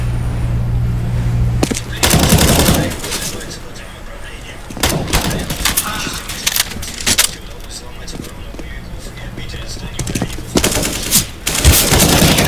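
Rapid bursts of gunfire in the video game CS:GO crack out repeatedly, some in quick automatic strings, with loud clatter and voices talking over the action.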